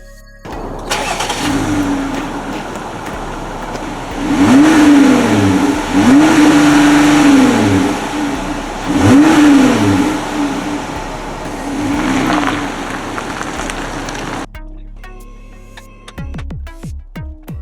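A Jeep Gladiator Rubicon engine with its stock exhaust idles with a deep burble, then revs up in several rising and falling surges, loud and close, before cutting off abruptly.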